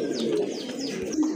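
Pigeons coo steadily and close by at a breeder's pigeon stall where birds including Black Lahori pigeons are kept in pairs, with soft overlapping calls repeating throughout and no talk.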